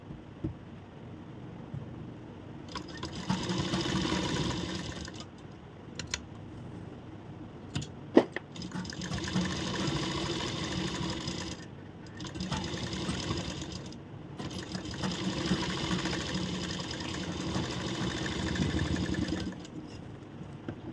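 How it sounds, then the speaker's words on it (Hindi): A sewing machine stitches a corset blouse, whirring in several sustained bursts separated by short pauses. "तो यहाँ भी हम सिलाई लगाते हैं"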